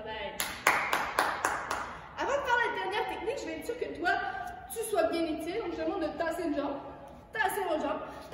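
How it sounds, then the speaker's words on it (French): A burst of quick, close hand claps rings out from young children at a ninja fitness class, followed by children's voices chattering and laughing, then a few more claps near the end. "Et on s'applaudit"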